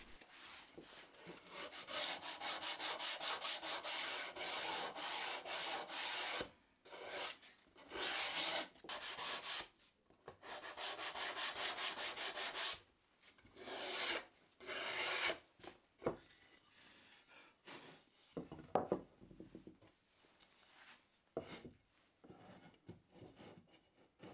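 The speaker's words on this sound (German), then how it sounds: "und mal ein bisschen abschleifen, ein wenig die Ecken und Kanten" Wooden edges and corners of a box are sanded by hand in repeated rasping strokes, some long and continuous, others short and broken up by brief pauses, close and fairly quiet.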